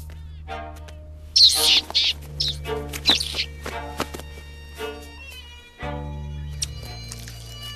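Vampire finches, small birds, give several short high chirps and calls over a steady background hum, with tapping sounds mixed in.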